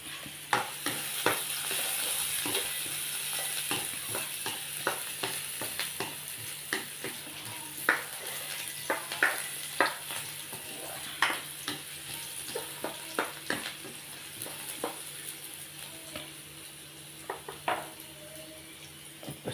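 Garlic sizzles in a hot pan for squid adobo, with a steady frying hiss under irregular scraping and stirring taps from a utensil against the pan, close and moderately quiet.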